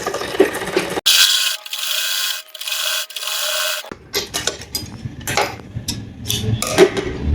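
A sewing machine stitches salwar suit fabric in a steady, close mechanical run of about three seconds. Fabric then rustles and the machine clicks irregularly during handling.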